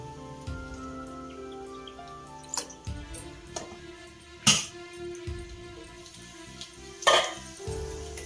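Spices tempering in hot oil for drumstick pappucharu, a soft crackling sizzle with scattered sharp pops and spits, fairly quiet, against a low background hum.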